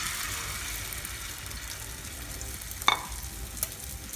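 Egg frying in hot oil in a nonstick pan, a steady broadband sizzle throughout with a sharp clink near the end, no talking.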